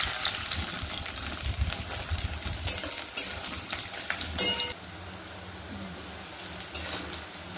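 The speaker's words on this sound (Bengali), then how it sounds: "পেঁয়াজ 4টে কাটা দিয়ে দিলাম।" Four large chopped onions hit hot oil spiced with garam masala and fry with a busy, steady sizzle. Sharp scraping and clinking stirs punctuate the sizzle before it settles into a quieter, even crackle.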